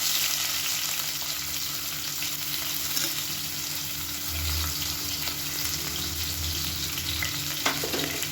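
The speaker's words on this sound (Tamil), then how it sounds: "இப்போ நல்லா பொரிய ஆரம்பிச்சிச்சு" Fennel seeds and spices sizzle in hot oil in a pan at the start of a vegetable biryani. A loud, steady crackle continues throughout, with no talking.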